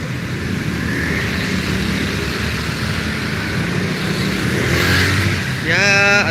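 Motorbike riding into a bike lane on a Cikini city street, its engine hum blending into steady traffic noise, with a brief higher whine near the end.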